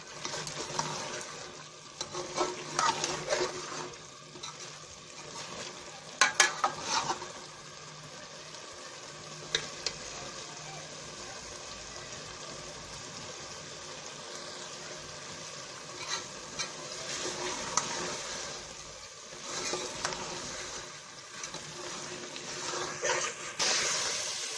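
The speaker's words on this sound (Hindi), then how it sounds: "अब इसको उस वक्त तक भूनेंगे जब तक इसके ऊपर घी ऊपर नहीं निकल आता।" Potato and pea masala frying and being stirred in ghee in a pan, a steady close sizzle with scraping stir strokes and occasional louder clatters, no talking.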